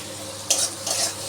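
Tomato sizzles in a pan with eggplant and potato while being stirred, two short scraping strokes rising over a faint, continuous frying hiss.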